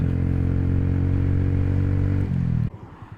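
A Honda C125 Super Cub with a Yoshimura exhaust and no baffle idles loud and steady with a buzzy single-cylinder note, drops slightly, then cuts off, leaving faint clicks and ticks.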